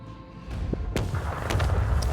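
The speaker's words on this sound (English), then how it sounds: "Deploy some torpedoes." Starship torpedoes strike targets in the Warhammer 40K: Rogue Trader video game, with a few deep booms and thuds landing in quick succession over a rumbling game soundscape.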